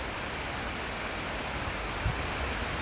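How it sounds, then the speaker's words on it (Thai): Heavy rain pours down steadily in Bangkapi, Bangkok, a dense, even hiss of water hitting surfaces with a faint low thud, close and constant with no one talking. "ฝนมันตกอะตกตลอดเวลาเลย"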